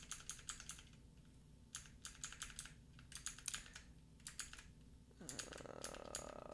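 Computer keyboard keys pressed repeatedly during drum editing in Pro Tools, quick close clicks in uneven bursts, quiet and with no talking.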